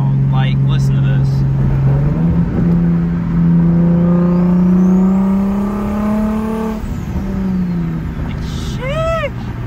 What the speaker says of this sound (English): my turbo is so loud. Like, listen to this.